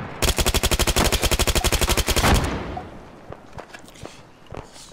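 An M4A1 Block II SOPMOD rifle in ARMA 3 fires a rapid automatic burst of about twenty loud, evenly spaced shots at close range. A rolling echo follows, then a few scattered distant shots.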